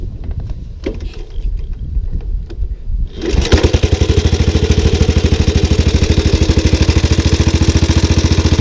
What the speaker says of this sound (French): le bruit, c'est ouf. Ça, c'est de la moto